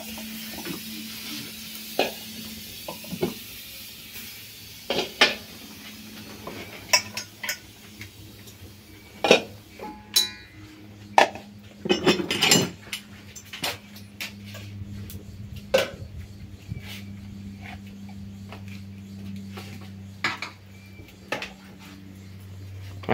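Dishes and cutlery clink and clatter in scattered sharp taps while a home-cooked farm lunch of rice, beans, pasta and fried pork is served, with a faint steady background hum and no talk.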